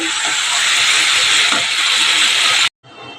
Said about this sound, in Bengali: জল দিয়ে দিলাম এবার ভালো করে এটা জাল হবে